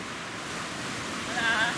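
Surf rolling onto Flamenco Beach on Culebra, a soft, steady wash of waves mixed with wind buffeting the microphone.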